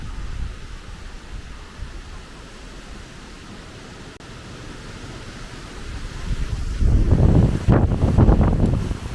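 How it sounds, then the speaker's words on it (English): Wind blows through Wepre Woods in Connah's Quay, North Wales, first as a low steady rush and then as stronger, louder gusts that buffet the microphone near the end, with no voices present. "Ooh, feel that wind."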